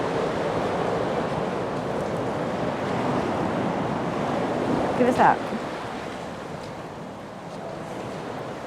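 Waves and moving water wash steadily under strong wind, with a continuous broadband rush throughout and a brief voice speaking near the middle.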